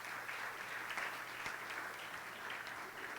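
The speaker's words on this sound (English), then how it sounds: "Give them a big round of applause." Audience applause at a government national development vision launch event, a sustained, even patter of many hands clapping throughout, fairly distant and quiet, with no speech over it.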